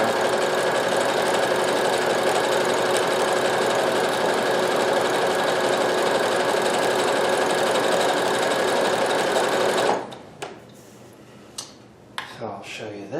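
A Brother CP7500 sewing machine runs stretch stitches in a loud, steady mechanical whir with a rapid regular needle beat for about ten seconds, then stops, leaving a few soft clicks and handling knocks.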